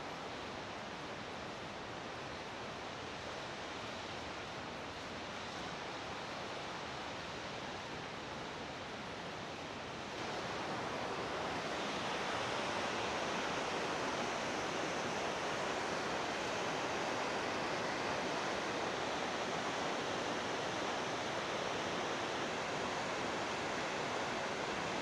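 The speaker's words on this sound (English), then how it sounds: "So I've arrived at Fantail Falls, but yeah, I mean, it's a beautiful waterfall" Fantail Falls at Haast Pass, New Zealand, roars as a steady broadband rush of falling water, growing louder and nearer partway through, with no voices.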